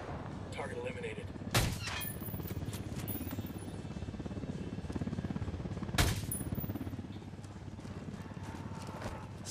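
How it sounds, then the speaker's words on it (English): Suppressed gunfire in the Ghost Recon video game: two sharp, muffled shots several seconds apart, heard over a steady low rumble of in-game ambience. "Gun sounds like it would be really loud without the suppressor."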